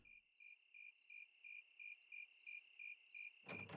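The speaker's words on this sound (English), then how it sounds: "There were crickets." A cricket chirps at night in a steady, evenly spaced series of about a dozen short, high pulses, faint and alone against silence, cut off by a brief rustling noise at the end.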